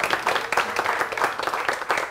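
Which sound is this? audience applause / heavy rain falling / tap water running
audience applause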